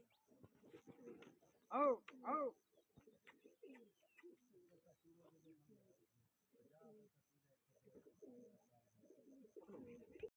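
Racing pigeons at an outdoor pigeon-flying competition coo in a few soft throaty bursts, faint and somewhat distant, among scattered quieter chirps and low voices talking.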